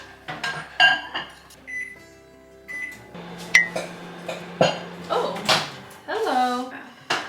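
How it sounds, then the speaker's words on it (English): A microwave hums steadily while melting butter, with a few electronic beeps and kitchen clatter of dishes and doors around it. "I'm going to go ahead and stick in the microwave just to melt it."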